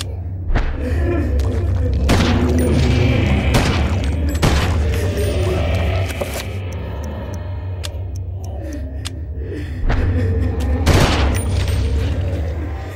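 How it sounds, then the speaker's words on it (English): An assault rifle in the game Eternal Darkness fires loud, booming single shots spaced apart, then short automatic bursts, all over a steady low rumbling game backdrop with no talking. "we're going to show off the assault rifle here, which has two settings. It has a, you know, one shot, and then it also has the automatic version"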